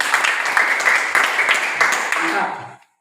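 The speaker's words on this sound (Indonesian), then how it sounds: "Tepuk tangan dulu." A class of students applauds together, a dense burst of hand claps that runs steadily for about two and a half seconds, then fades out into silence.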